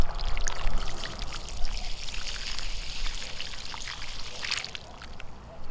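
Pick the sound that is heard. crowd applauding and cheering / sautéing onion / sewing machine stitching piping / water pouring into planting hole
water pouring into planting hole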